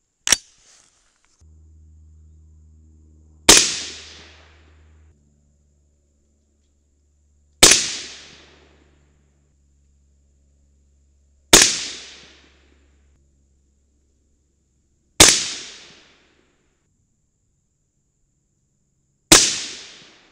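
Rifle shots fire 55-grain Bob's full metal jacket bullets loaded with Varget powder, five loud sharp reports spaced about four seconds apart, each with a short decaying echo, after an opening snap.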